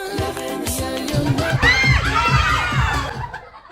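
Children shouting and cheering together during a party game at a baptism and first birthday celebration, a loud burst of excited young voices that swells and then fades, with tonal music playing beneath.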